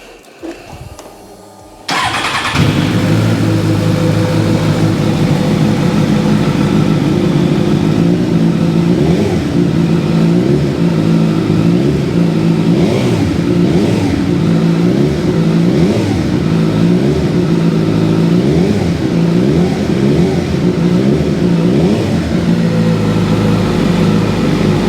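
A Suzuki GSXR1000 motorcycle with about 26,550 miles fires up after a brief crank, then settles into a loud, steady idle with a throbbing, even rhythm that runs for over twenty seconds, close to the microphone.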